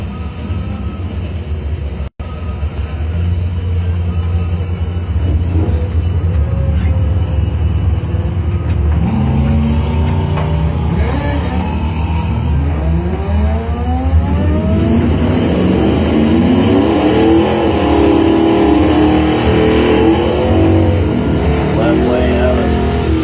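A 2000 Kawasaki runs a drag race lane at a strip, a loud engine roaring and revving with rising, sweeping pitch as it accelerates, under continuous announcer talk over a PA.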